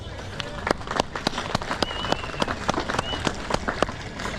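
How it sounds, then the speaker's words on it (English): Scattered audience clapping at the Melbourne 4x4 Show after a climb up Mount Maxxis, sharp individual claps at irregular intervals, moderately faint, over a steady outdoor background. "Does that deserve a round of applause?"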